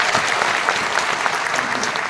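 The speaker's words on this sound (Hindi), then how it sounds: "तो एक बार अतिथियों के लिए ताली बजाना तो आपका फर्ज बनता है।" An audience at a Bihar teacher appointment-letter ceremony applauds the guests, a steady, dense burst of clapping that fills the hall, with no talking over it.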